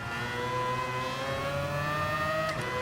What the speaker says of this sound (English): Just listen to that quad rotor rotary engine rev, absolutely incredible.